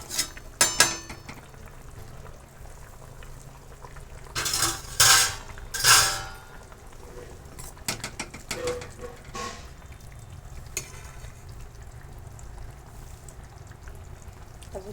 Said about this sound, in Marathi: हे पहा मी आता झाकण उघडून पाहणार आहे.